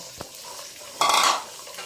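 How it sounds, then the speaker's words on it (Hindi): Potatoes frying in a pan for aloo bhujia, with a faint tap early on and then a short, loud burst of stirring sizzle lasting about a third of a second before the frying settles back to a low hiss. "तकरीबन 5 मिनट लगेंगे आलू फ्राई होने में।"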